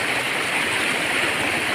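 Strongly flowing water after heavy rain, a steady broadband rushing roar close by, with no voices over it.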